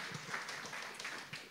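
Applause from an audience at a university research talk welcoming the second guest speaker, a steady broadband patter of many hands held at a moderate level for its short length.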